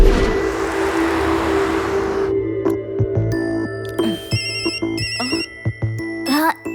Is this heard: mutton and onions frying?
no